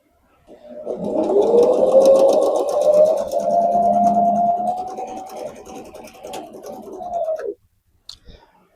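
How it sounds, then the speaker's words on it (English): A sewing machine stitches across one side of fabric pieces for a hanging kitchen towel. Its motor whines loud and close in one continuous run of about seven seconds, then stops and is followed by a couple of faint clicks. "And we are just going to stitch across one side."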